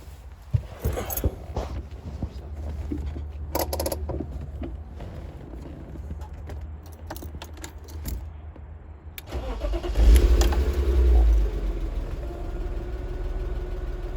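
A BMW E36 convertible cranks and fires up, then settles into a steady idle before swelling into a louder rev and dropping back to idle. Clicks and handling noises come before the start.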